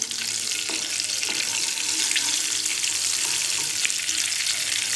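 Cumin seeds frying in about three tablespoons of oil in a frying pan, a loud, dense, continuous hiss and crackle heard up close with no pauses.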